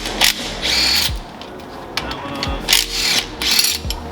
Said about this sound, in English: So I'm going to go ahead and punch these holes out.